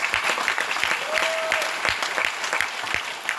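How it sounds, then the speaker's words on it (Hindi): An audience at an RCM meeting class claps loudly in a rhythmic, roughly unison beat of sharp, repeated claps, with a faint background hum. "अब करना क्या है? ताली बजाइए।"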